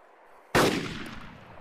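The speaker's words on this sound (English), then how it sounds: "Oh, I shot him right in the fucking chest." A single loud gunshot in the video game DayZ cracks out sharply and close, then trails off into a long echoing decay with no talk over it.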